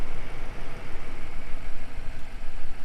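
The 2.5-liter four-cylinder boxer engine of a 2024 Subaru Impreza RS runs with a loud, steady rumble that pulses slightly, close by, with no voices.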